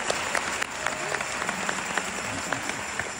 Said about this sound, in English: Y'all please give her a round of applause.